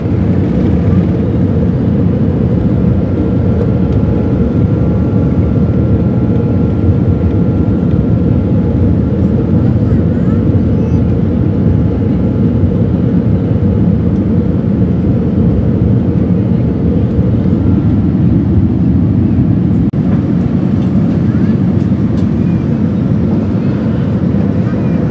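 Airliner taking off on a flight from Manchester and climbing, a loud, steady, broadband engine roar heard from inside the cabin, unbroken throughout.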